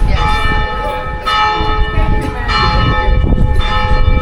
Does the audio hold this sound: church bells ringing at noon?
yes